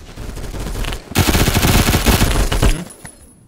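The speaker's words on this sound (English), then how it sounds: "The Colt LMG. Isn't that your favorite gun?" Sustained automatic fire from a Colt LMG in the Phantom Forces shooter game, a loud dense burst of rapid shots lasting about two seconds, preceded by quieter game ambience and cut off abruptly at the end.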